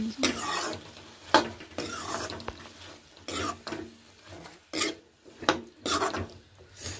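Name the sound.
chopped potatoes and white chickpeas added to cooking gravy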